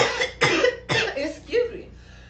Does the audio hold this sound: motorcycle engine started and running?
no